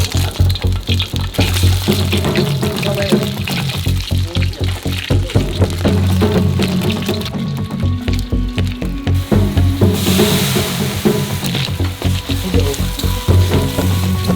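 Sliced pinuneg blood sausage sautéing with onion leaves in a pan, a loud, steady sizzle crackling throughout with occasional stirring.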